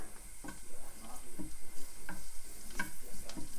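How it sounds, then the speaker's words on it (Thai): Steady sizzling of garlic frying in a hot pan, with a few light clicks of a utensil stirring and scraping. "บัดนนี้เขาก็ตั้งกระทะเจียวกระเทียมค่ะ"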